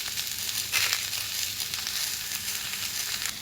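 Onion and green chilli hit hot oil with diced potatoes in a pan for aloo posto, a steady close crackling sizzle with brief stirring scrapes and no talking.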